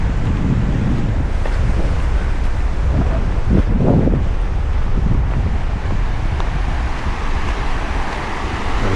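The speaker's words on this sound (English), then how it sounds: "There's a river right there." Broadband rushing water from a clear river beside a hiking trail outdoors, a steady loud wash with gusty wind noise on the microphone throughout, no voices.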